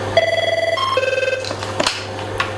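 A telephone rings at a children's crisis prevention shelter, a loud electronic ringtone pulsing in quick repeated trills, then a few clicks and handling noises.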